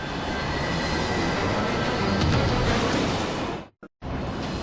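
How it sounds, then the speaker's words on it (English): Yak Service Flight 9633 airliner straining to take off in 2010, a loud, continuous engine roar that stays heavy and close for several seconds before cutting out abruptly near the end. "The crew struggles desperately to get the plane off the ground."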